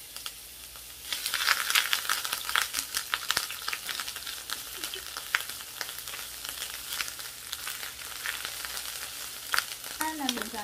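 Ginger and garlic frying in hot oil in a pan, a steady close sizzle that swells as they hit the pan and keeps hissing, with occasional stirring scrapes and no talking.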